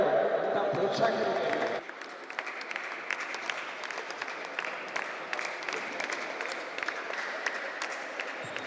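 An audience at an inter-state open badminton tournament claps in a brief burst, then breaks into a steady, scattered patter of applause in a large hall, with speech over it.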